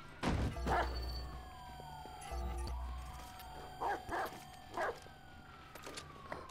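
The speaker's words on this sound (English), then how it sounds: "Stupid guard dog." A guard dog in the video game Watch Dogs barks in a few separate bursts over a low droning background with a faint rising and falling siren-like tone, with no talking.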